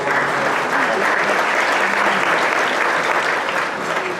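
A luncheon audience applauds itself at a Hollywood awards event, steady dense clapping from many hands filling the room at an even level throughout.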